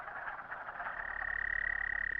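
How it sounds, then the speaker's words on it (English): Wood frogs croak together in a steady spring chorus beside a flooding river, a dense rattling mass of calls that holds at an even, moderately loud level throughout, with no voices. "Early in the spring, wood frogs chorus and lay masses of eggs."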